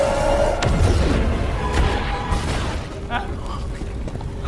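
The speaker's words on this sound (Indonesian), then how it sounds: "dan ledakan pun terjadi" A deep, booming explosion from the film Black Adam (2022) rumbles loudly at the start, followed by crashing debris and a dense mix of noise and voices that fades over several seconds.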